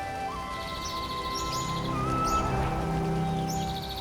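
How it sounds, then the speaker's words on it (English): Birds chirp in a lush hill forest, scattered short tweets rising above a continuous soft wash of background ambience, fairly faint and distant. "Birds chirp all around"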